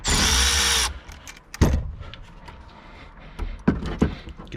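Power tool whirring loudly for a short burst inside the trunk of a Mitsubishi Evo X while a trunk cover is removed, followed by scattered clunks and rattles of parts being handled.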